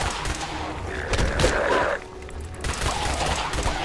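Enemies open fire in Fallout 4, a dense burst of rapid gunshots crackling close and loud, pausing briefly before another volley starts.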